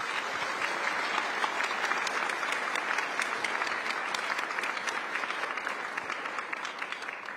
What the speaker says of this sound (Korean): 대통령님과 여사님께 뜨거운 환영과 감사 박수 부탁드리겠습니다